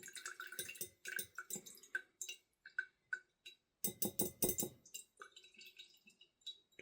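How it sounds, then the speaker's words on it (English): Paint stripper drains from a tank through a filter, giving a quiet irregular run of drips, trickles and light clinks, with a denser splashing stretch in the middle. "We'll let her drain down a little bit more."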